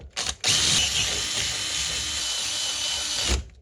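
A power drill bores holes through a solar panel bracket using blunt bits, a loud continuous whirring grind after a brief start-stop burst, then cutting off at the end.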